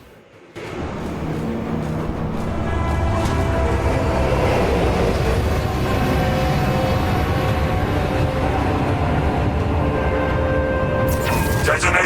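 A loud, continuous rumble of a train rolling steadily in the video game Warhammer 40K Space Marine 2, heavy and close, holding level for several seconds.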